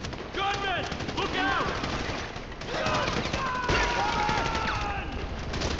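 Rapid bursts of gunfire crackle through a Grand Theft Auto V shootout, dense and loud, with game characters talking over the shots.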